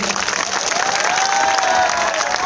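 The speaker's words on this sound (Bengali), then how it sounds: "রাজ্জাক সাহেবের জন্য একটা জোরে করতালি দিতে চাই।" A large outdoor crowd at a school-field gathering breaks into loud, sustained applause, with dense clapping and some cheering voices mixed in throughout.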